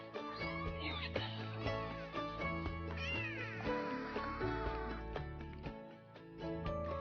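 A very skinny, underweight female foster cat meows several times, close by, over a steady background of music-like tones.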